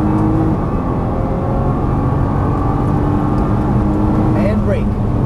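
A Nissan GT-R accelerates on a race track, its engine a loud, steady whirring drone heard from inside the car, with a rising tone near the end.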